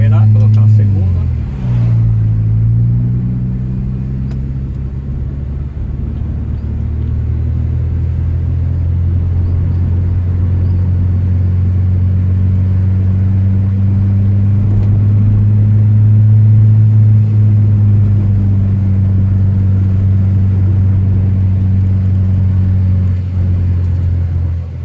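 Nissan automatic car engine revving after a shift down into second gear, a steady loud low drone that swells and holds across the whole stretch, with a brief dip near the start.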